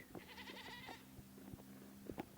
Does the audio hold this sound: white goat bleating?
yes